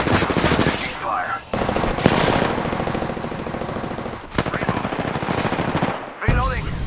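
Video game gunfire rattles in heavy automatic bursts, loud and close, broken by brief pauses, while a voice speaks over the shooting.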